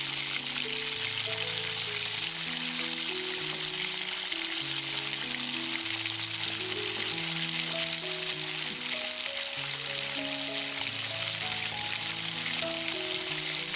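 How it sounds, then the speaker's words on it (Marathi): Spinach-broccoli cutlets shallow frying in a nonstick pan make a continuous, even sizzle that lasts throughout, with a soft tune playing underneath and no speech. "आता हे मिश्रण हाताने लहान गोलसर आकार देऊन नॉनस्टिक पॅन मध्ये शॅलो फ्राय करायचं।"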